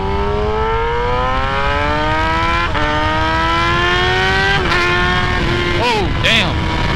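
A 2017 Kawasaki ZX10R sport bike accelerates hard, its engine note climbing steadily in pitch through a long pull, broken by quick gear shifts, then easing off at the end, loud and close with strong wind noise.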